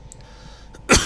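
A single sharp cough bursts out near the end after near silence, close and fairly loud, from a man recovering from a cold.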